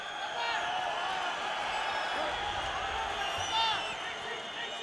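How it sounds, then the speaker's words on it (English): A crowd at a kickboxing fight cheers and whoops in a broad, steady roar from the arena, with a slight swell near the end and no clear individual voices. "Crowd coming alive here."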